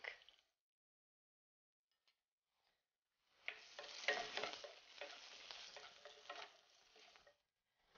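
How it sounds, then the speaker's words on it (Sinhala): Garlic and chili powder frying in a pan of oil: after a brief sizzle and near silence, a dense, steady sizzle with stirring scrapes rises and holds for several seconds before cutting out. "සුදුනු ටික බැදෙනකොට මම මේකට එකතු කරගන්නවා මිරිස් කුඩු"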